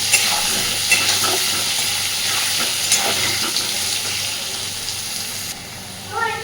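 Potatoes fry in hot oil with a loud, dense, steady sizzle close by, broken by faint stirring scrapes, the crackle briefly changing near the end.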